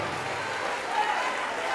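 A church congregation applauding, a steady wash of many hands clapping together, moderately loud and continuous through the short stretch.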